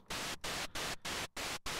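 Noise waveform from a UDO Super 6 synthesizer's DDS1 oscillator, a bright hiss played in six short bursts with brief silent gaps between them.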